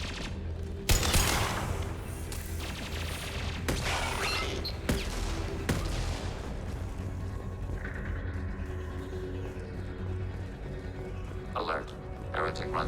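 Bursts of turret gunfire in Mass Effect 2 crack out in sharp clusters over the first six seconds, then ease into mechanical rumble and whirring, with a synthetic voice speaking over it.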